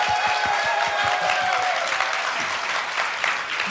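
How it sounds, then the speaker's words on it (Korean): A church audience at a Christian musician contest in Jeongneung gives a welcoming round of applause for the staff, with loud, continuous clapping filling the hall and a few sustained tones ringing beneath it, no voices on top. "우리 이런 자리를 마련해 주신 우리 모든 분들을 위해서 크게 환영의 박수 한번 크게 한번 보내드릴까요?"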